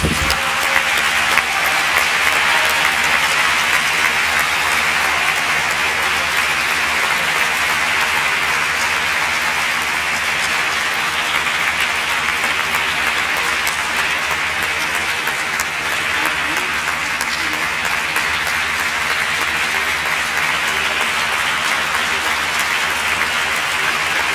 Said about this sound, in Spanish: solo os pido un fuerte aplauso para el premio Jaume Mari al compromiso Eulogio López